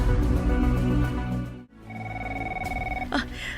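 A telephone in an Ilocano drama scene rings with a bright electronic tone for about a second, sounding over continuous background music.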